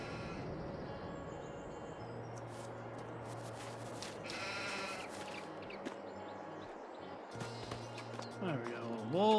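Sheep bleating in the farming video game Farming Simulator 22, several wavering bleats amid a steady low hum and background game noise, with one louder bleat near the end.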